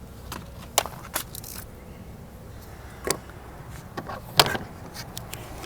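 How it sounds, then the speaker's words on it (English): A blade scores a vinyl decal on car window glass and the film is torn away, giving a few sharp, close crackling and tearing bursts spaced apart over a quiet background. "I just want to kind of score it and tear it off"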